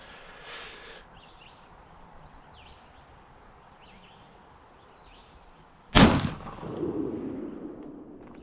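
A LeMat shotgun barrel fires a single loud, sharp blast loaded with round balls, followed by a short ringing echo, after several seconds of quiet outdoor background with faint chirps.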